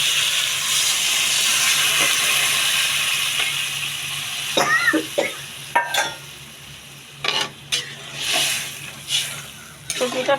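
Water poured over vegetables frying in a pan for a rohu fish and snake gourd curry, with a steady sizzle and hiss joined by a few sharp bursts of steam and stirring.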